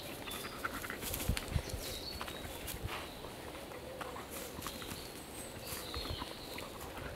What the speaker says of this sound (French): On peut constater à son trot qu'il est déterminé à aller sur ce chemin-là